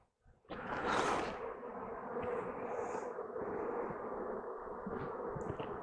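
Honey bees buzzing around an open hive during a walk-away split, a dense continuous drone close by that swells in at the start and holds steady with individual bees passing near.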